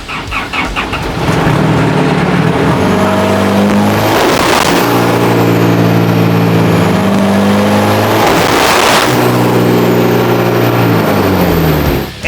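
Toyota Revo 2.4 race truck fitted with an F6 turbo revs hard twice, engine harmonics sweeping up then dropping, with turbo whine and loud close-up roar throughout, no talking.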